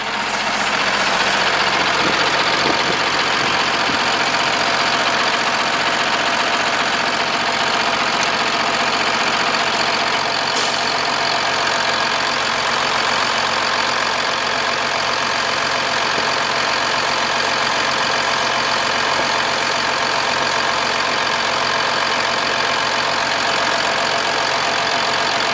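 A 2008 Freightliner Business Class M2 106 service truck with a 6.7 Cummins ISB diesel idles steadily and evenly at close range for the whole stretch, with no one speaking.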